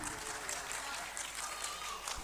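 Applause from an audience at a children's quiz in a Karachi arts council hall, a steady wash of clapping that stays faint and distant for the short stretch.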